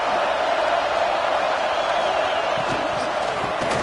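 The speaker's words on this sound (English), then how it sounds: "And the crowd really making some noise now, trying to help out this" Stadium crowd roaring in a college football video game during a goal-line defensive stand, a steady loud wash of cheering with no pauses.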